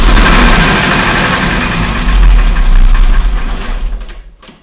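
A close, loud internal combustion engine with a knocking fault runs with a rapid, even mechanical ticking and clatter, then fades out at the end.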